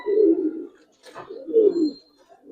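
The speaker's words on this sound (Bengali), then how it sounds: "মাকড়া লাল চোখের কবুতর, বিশাল বড় সাইজ" Large red-eyed pigeons of a giribaz and coloring breed coo close by in two deep, throaty bursts with a short pause between, and no voices.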